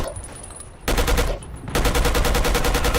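Gunfire in the video game Battlefield Yugoslavia: two sustained bursts of rapid automatic fire, each a quick regular train of loud cracks, the second longer and running to the end.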